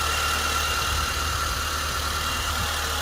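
A used car's engine idles smoothly and evenly during a pre-purchase inspection in Germany, a close, continuous low rumble with no speech over it.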